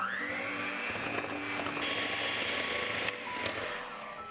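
An electric mixer whirs with a steady high-pitched hum, its tone shifting slightly as it beats egg and dough ingredients into a smooth mixture.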